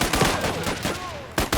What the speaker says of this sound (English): One of our machine gunners has an upgraded machine gun with an excellent rate of fire.